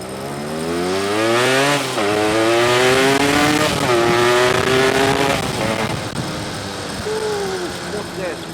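A restored Yamaha RX King two-stroke motorcycle running after a carburetor replacement: a loud, close, raspy engine note blipped several times with rising and falling revs, and someone talks over it.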